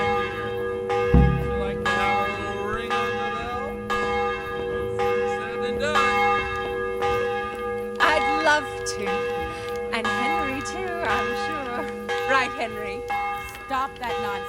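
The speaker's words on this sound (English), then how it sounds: "would you like to have a little ring on the bell?" A church bell rings repeatedly in a medieval village in the video game Kingdom Come: Deliverance, loud, steady metallic strikes with a long ringing hum, with voices talking at times over the tolling.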